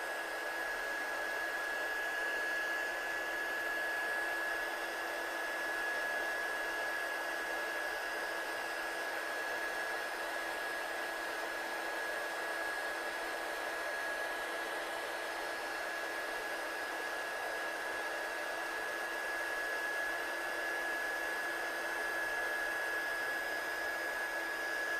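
A heat tool blows steadily while heat-setting glitter embossing powder on a card, a continuous, even whooshing hum with a faint constant whine and no change across the whole stretch.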